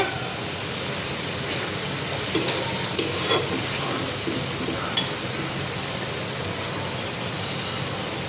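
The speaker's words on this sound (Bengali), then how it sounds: "একদম সবসময় তরকারি ভালো করে কষিয়ে নিলে" Catfish curry being stirred and sautéed in a pan, a steady frying sizzle with scattered scraping clicks of the spoon against the pan throughout, close and continuous with no talking.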